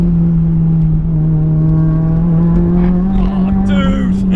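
A Mitsubishi Lancer Evo 5 pulls hard on an uphill road, its engine droning loudly and steadily from inside the cabin as the pitch climbs gradually, with a brief faint squeal near the end.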